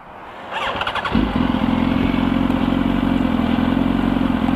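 2004 Yamaha R1 motorcycle with a burning, slipping clutch: a starter clatter gives way to a loud, steady close-up engine drone with a sustained squeal running over it.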